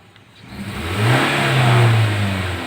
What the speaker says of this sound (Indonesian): Pas digas sudah responsif, gasnya cepat naik.